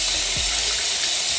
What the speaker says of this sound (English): I'm gonna rinse off the excess soap with my hands